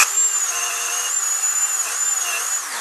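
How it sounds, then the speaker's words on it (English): A wire brush bit spinning on a power drill scours a rusty metal vise, giving a steady, loud high-pitched whir that holds for about three seconds with slight wavering in pitch. "These little wire bits also do a great job just cleaning up metal in general"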